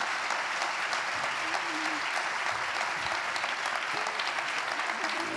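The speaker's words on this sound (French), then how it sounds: "j'aimerais profiter aussi pour qu'on puisse applaudir chaleureusement nos 3 étudiantes qui ont beaucoup travaillé pour ce panel" An audience applauds three students after a panel discussion at a Council of Europe event, a steady wash of many hands clapping that fills the room evenly, with a faint voice briefly audible underneath.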